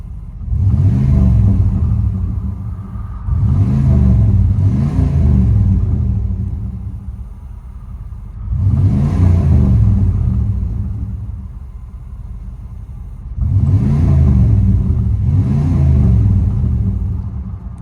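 A 1997 GMC Sierra 1500 step-side single cab with a 5.7L V8 and Flowmaster Super 10 dual exhaust, heard from inside the cab, revs in four loud, rumbling bursts separated by quieter idle stretches.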